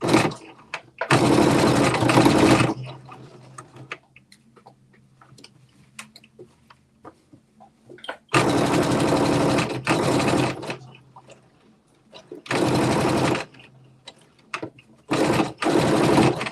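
A home sewing machine back stitches while sewing a top and pants into shorts, running in loud, close bursts of rapid mechanical whirring separated by short pauses with faint handling sounds.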